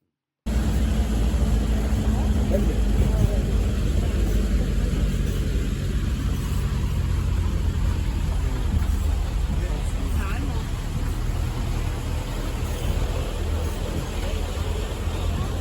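Trucks climbing a mountain road toward the volcano on Tanna Island in Vanuatu, a steady low engine rumble and road noise that runs unbroken throughout, close and continuous with no clear breaks.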